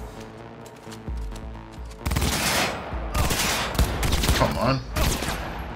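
Gunfire in the video game Cyberpunk 2077, a dense, loud fusillade of rapid shots that starts partway through and continues in bursts, with someone speaking briefly over it.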